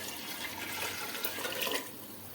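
Water pours steadily into a pot of rice, a close, continuous splashing rush that swells slightly midway and then eases off.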